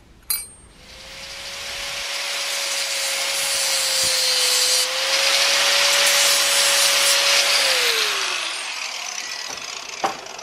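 A power tool cuts the top piece off a metal key brazed onto a screwdriver, a loud, steady high whine with abrasive hiss that holds for several seconds before spinning down, close and alone.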